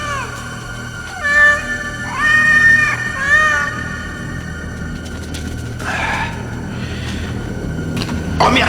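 Several cats meow in a series of drawn-out, wavering cries, some overlapping, with a faint low rumble in the background.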